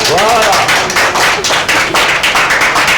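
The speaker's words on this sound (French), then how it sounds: "On va saluer les enfants avec par applaudissement si les enfants sont là." Steady, dense clapping from a children's television show audience, loud and continuous with rapid overlapping hand claps throughout, a voice faintly mixed underneath.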